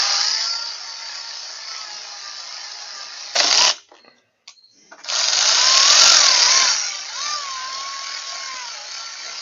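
A power tool runs down the oil pan bolts on a V-twin Briggs & Stratton engine in two loud, close bursts of whirring separated by a short gap, the motor pitch rising and falling.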